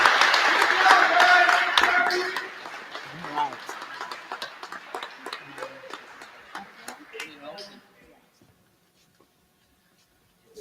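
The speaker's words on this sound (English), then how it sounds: "big round of applause." An audience at a high school senior awards night gives standing students a loud round of applause that gradually thins into scattered claps and dies away to silence near the end.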